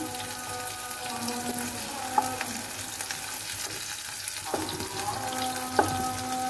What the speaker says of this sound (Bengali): এখানে আমার উস্তাটা ভাজা হয়ে গিয়েছে, এখন উল্টিয়ে নিব।